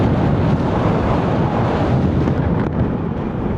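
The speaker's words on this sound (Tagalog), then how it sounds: "So medyo malakas yung hangin ngayon" Strong wind buffets the microphone in a dense, continuous roar, loud and close throughout, with no voices heard.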